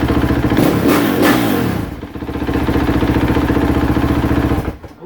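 A KTM 450SXF dirt bike engine runs close by at a steady idle with a couple of sharp throttle blips early on, then settles into an even, loud drone before cutting out near the end.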